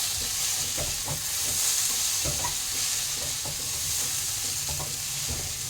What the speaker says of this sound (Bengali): এদিন জন্য পোস্তটা হালকা কষে নেব